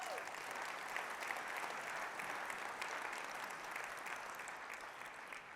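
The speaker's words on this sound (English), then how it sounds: "Give them a round of applause." Sustained applause ripples through a large gala audience, an even wash of many hands clapping at moderate distance, continuous and unbroken with no speech on top.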